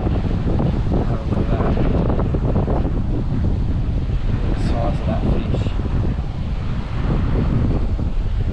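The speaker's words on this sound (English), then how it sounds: "It's so windy, the camera's not even staying." Heavy wind buffets the microphone on a fishing boat at sea, a loud continuous low roar with water sounds mixed in and a few faint voice fragments.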